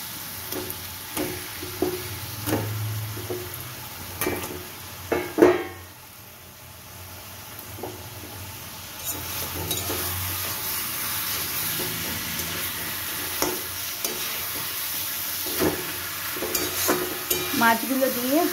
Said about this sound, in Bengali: মাছগুলো দিয়ে হালকা হাতে নাড়াচাড়া করে